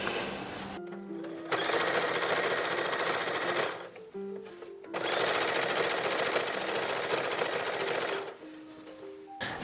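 A sewing machine stitches piping onto the bottom waistband of a bodice for an 1860s wool dress, running in two bursts of several seconds each, separated by brief pauses with small mechanical clicks.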